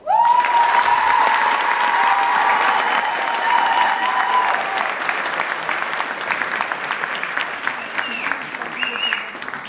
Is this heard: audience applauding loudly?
yes